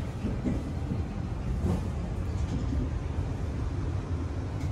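The Progo, an Indonesian economy passenger train, rolls along the rails with a steady low rumble and rattle from inside the carriage, continuous and fairly close, with no voices.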